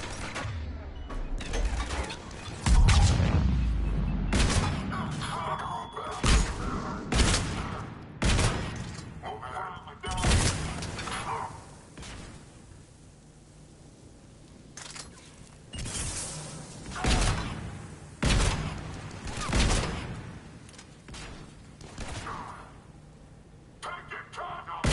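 Mass Effect 3 combat with bursts of gunfire, repeated sharp shots and volleys separated by short lulls, plus thuds and impacts, with voices talking in between.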